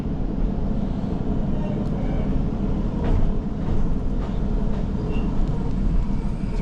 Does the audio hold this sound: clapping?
no